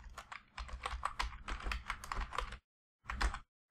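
Someone types a PowerShell command on a computer keyboard: a fast, close run of crisp key clicks for about two and a half seconds, a short pause, then a final quick burst of keystrokes.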